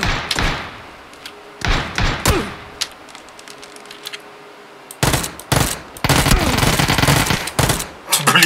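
Gunfire in PUBG: scattered sharp shots and thuds, then a dense burst of rapid fire near the end, heard close and loud over a low hum.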